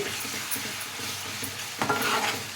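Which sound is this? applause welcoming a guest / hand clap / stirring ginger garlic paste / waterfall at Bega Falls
stirring ginger garlic paste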